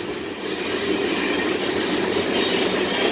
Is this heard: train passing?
yes